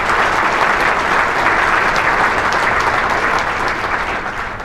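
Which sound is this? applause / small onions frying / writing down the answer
applause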